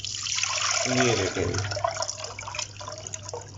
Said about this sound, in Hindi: अब हम लेंगे एक पैन में पानी